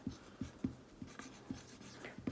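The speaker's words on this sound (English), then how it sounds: "So you could always draw this with whiteboard and marker." Marker pen strokes on a whiteboard, a quiet series of short squeaky scratches repeating about every half second, close and alone with no talking.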